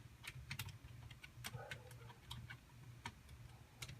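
Fingers tap a computer keyboard in quick, irregular bursts of light clicks, quiet and close, with short pauses between runs of keystrokes and no talk.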